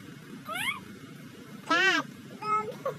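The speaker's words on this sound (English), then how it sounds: "Cat." A cat meows three or four times in about three seconds, close by, the middle call longest and loudest, over a low background rumble.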